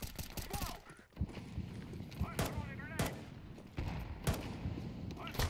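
Gunfire in the video game Counter-Strike 2 during a competitive Premier match on Mirage, with several sharp shots and short bursts spread across the moment, close and punchy, mixed with game noise and player voices.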